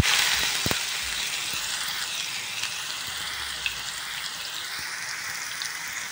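Grated bottle gourd frying in ghee in a wok, a steady bright sizzle and crackle that holds evenly throughout with a few small pops and no talking.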